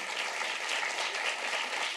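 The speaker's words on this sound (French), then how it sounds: "Je vous demande de l'applaudir." An audience applauds steadily at a recorded talk event welcoming a lawyer and disability-rights collective cofounder, producing a continuous, even clatter of many hands that stays at moderate loudness throughout.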